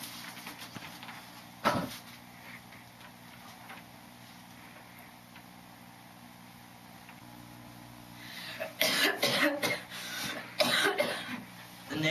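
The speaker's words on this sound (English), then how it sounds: "It's just a cough." A single sharp cough rings out early, followed later by a cluster of harsher coughs over a quiet, humming background.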